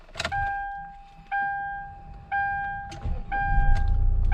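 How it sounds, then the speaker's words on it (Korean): A dashboard chime beeps steadily at regular intervals, then a used diesel car's engine cranks and catches, settling into a low, steady rumbling idle under the chimes. "한번 시동을 켜보도록 할게요"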